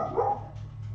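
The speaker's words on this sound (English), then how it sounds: "my dogs are going crazy." Dogs barking in a room, a single short bark with a brief whimpering tail, fairly close over a low steady hum.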